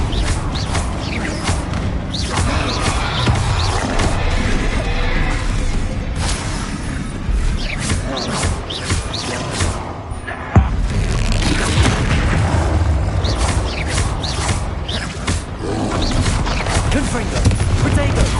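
Confringo blasting spells in the video game Hogwarts Legacy set off booming explosions and crashing impacts throughout a dense, loud battle, with one sharp blast standing out near the middle.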